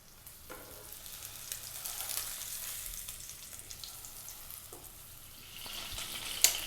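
A thick sea bass fillet fries in a hot pan, giving a steady, close sizzle with faint crackles and spits that rise a little louder near the end, with no voices over it.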